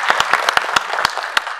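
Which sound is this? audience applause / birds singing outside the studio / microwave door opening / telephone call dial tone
audience applause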